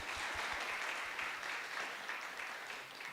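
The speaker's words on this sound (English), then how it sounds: "Please give applause to Dr. Sanaa" An audience at an academic lecture session applauds, a dense, continuous wash of clapping lasting a few seconds at moderate distance, with no talk over it.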